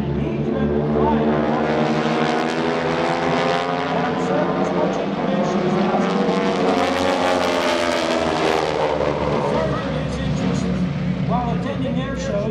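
Aeroshell Aerobatic Team propeller aircraft at an airshow pass overhead with a loud, sustained droning roar of radial engines that swells and shifts in pitch, with a commentator talking over it.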